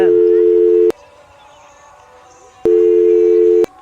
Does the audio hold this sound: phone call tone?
yes